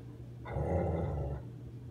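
A big dog growls in a low, rumbling burst lasting about a second, fairly close, between quieter stretches with a steady low hum underneath.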